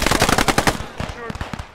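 Rapid automatic gunfire in the Post Scriptum video game, a fast rattling string of loud close shots followed by scattered quieter bursts, with a voice speaking over the firing.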